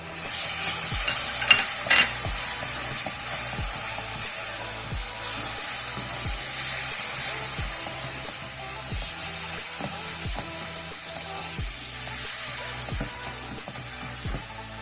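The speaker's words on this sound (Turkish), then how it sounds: "Ve iyice karıştıracağım." A utensil scrapes and knocks rhythmically around a pan of melted sugar and oil for caramel over low heat, with a soft sizzle underneath, close and steady, no talking.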